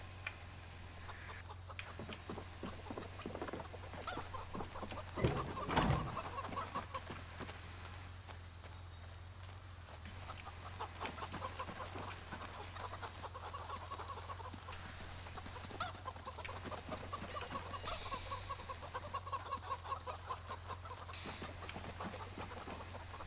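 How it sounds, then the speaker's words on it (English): Chickens cluck and fuss steadily in a farmyard in the survival game Project Zomboid, a continuous murmur of hen calls at low level with a brief louder burst partway through and no talking. "All these chickens can just die."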